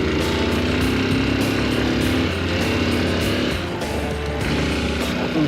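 Honda XR 150L motorcycle on stock tires ridden off-road through sand, its engine droning loud and steady throughout with a brief dip in level, no talking.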